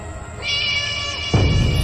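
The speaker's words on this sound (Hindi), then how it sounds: "ये तो उस बिल्ली की आवाज है।" A single cat meows, a drawn-out high cry, followed by a louder low thump or rumble at the end.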